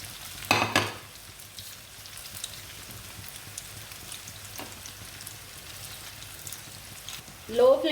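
Chicken vegetable kebabs frying on a low flame, a soft steady crackle and light sizzle, fairly faint, with a louder burst of spattering near the start and again at the end.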